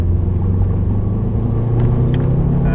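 A Subaru car runs on a race track, its engine a steady low rumble close by as it pulls through the gears, with no talk over it.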